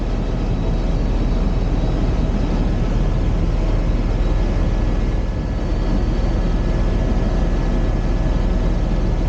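A tour helicopter in flight over Hawaii gives a steady, loud, unbroken roar of rotor and engine noise heard from inside the cabin, with no speech.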